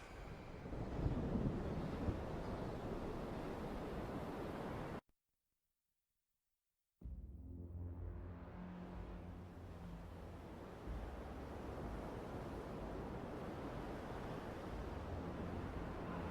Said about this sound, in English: Esmeralda battled the waves.